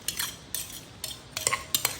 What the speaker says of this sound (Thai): คนทุกส่วนผสมทุกอย่างให้เข้ากันนะครับ